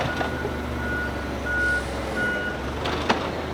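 Reversing beeps from a forklift in a car workshop, three evenly spaced tones sounding over a steady engine rumble, followed by a short clank.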